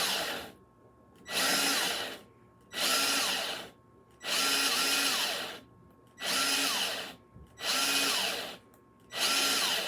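A cordless drill with a nearly drained battery runs in repeated short bursts, starting and stopping about six times, loud and close with brief silences between.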